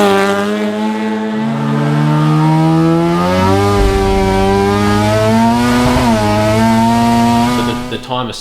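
A Mazda rotary-engined car revs hard in a sustained, loud buzzing drone with rising and falling pitch sweeps, the engine note holding strong throughout before easing slightly at the end.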